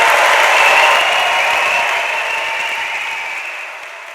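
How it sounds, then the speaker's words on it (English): A large audience at a university degree ceremony in Manchester applauds graduates, dense sustained clapping that fills the hall and slowly fades toward the end. "let's give this amazing group of people one last huge round of applause"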